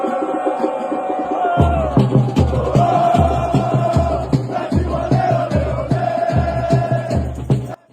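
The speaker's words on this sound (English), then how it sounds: "The crowd is singing again." A football crowd in a World Cup stadium sings together, a loud, massed chant with a steady rhythmic pulse of repeated beats that carries on throughout and cuts off at the end.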